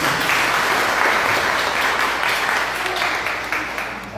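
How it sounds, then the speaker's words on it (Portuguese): A church congregation at a Sunday service applauding, a loud dense wash of many clapping hands filling the room, gradually easing toward the end, with faint voices beneath. "Uma salva de palmas cheia aqui"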